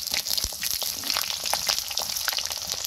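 Quail pieces fry in a pan in a village kitchen, crackling and sizzling steadily up close, with scattered sharp pops and spits throughout.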